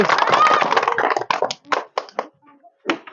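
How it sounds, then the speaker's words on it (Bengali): Loud applause from an audience cheering on a contestant in a ball-blowing food challenge game, a dense burst of clapping for about a second before it breaks into scattered claps under children's voices and chatter. "জোরে হাততালি।"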